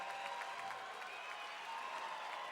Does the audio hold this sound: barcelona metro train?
no